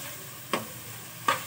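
Boneless chicken tikka pieces roast with masala in a kadhai over a soft, constant sizzle, broken by two quick stirring scrapes about three-quarters of a second apart.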